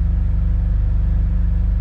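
A stock BMW M2 Competition with its S55 twin-turbo straight-six idles steadily after a cold start in a garage, a loud, close, even rumble with a rapid pulsing throb and no talking.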